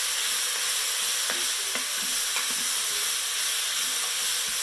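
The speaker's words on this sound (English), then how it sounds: "I'm just going to gently mix the coconut." Grated frozen coconut being gently mixed through a green bean stir-fry in an Instant Pot, with a steady sizzle and hiss underneath and a few soft scraping stirs, close and fairly quiet, no talking.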